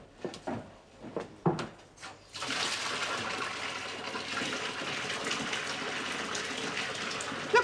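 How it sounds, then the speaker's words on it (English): A bath being filled with water in a 1970s period setting, a steady loud gush of running water that starts after about two seconds of scattered knocks and movement and then continues unbroken. "pick yourself a bath then and get it filled with water"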